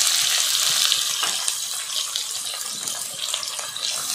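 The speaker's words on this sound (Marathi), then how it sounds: "हा कांदा आता लाल होईपर्यंत परतून घ्यायचा आहे" Finely chopped onion sizzles in hot oil with mustard seeds, cumin and curry leaves for sushila, a steady, close hiss of frying that holds at a constant level throughout.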